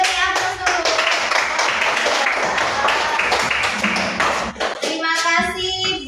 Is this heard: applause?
yes